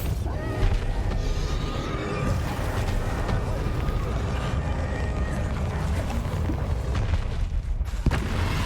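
Spell explosions from the Bombarda, Confringo and Depulso casts in Hogwarts Legacy, with dense, continuous booming blasts and rumbling combat noise filling the whole stretch at steady loudness.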